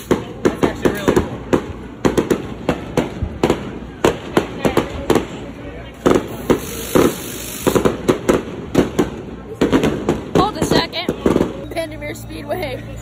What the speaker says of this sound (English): Speedway always ends the night at the Mile Highs with some fireworks.